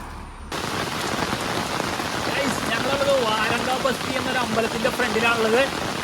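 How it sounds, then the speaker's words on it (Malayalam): Heavy monsoon rain pounds steadily on surfaces during a rural trip, a thick, close hiss of drops lasting throughout, with a faint voice or vehicle hum buried underneath. "നല്ല കിടുക്കാച്ചി മഴ ഒരു രക്ഷയില്ല"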